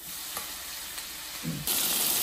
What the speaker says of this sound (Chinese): 辣椒下锅